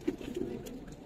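Pigeons of a military silver breed give soft, low cooing calls while being held and handled, a few murmured coos close by over a quiet background.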